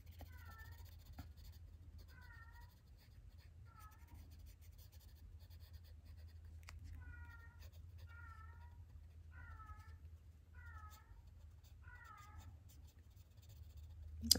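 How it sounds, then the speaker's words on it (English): A neighbour's cat meows repeatedly, around nine short mid-pitched calls spaced at a steady rhythm, fairly close over a low constant hum in an otherwise quiet room with no talking. "That's my neighbor's cat."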